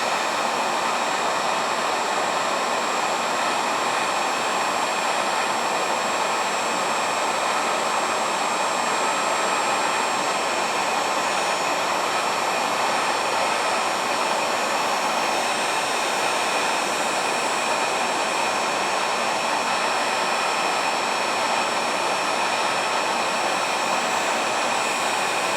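A heat gun runs continuously while it shrinks a sealed crimp connector during ATV winch wiring on a Scag Tiger Cub mower. The steady, loud airy whoosh and whine stays level throughout, with no talk.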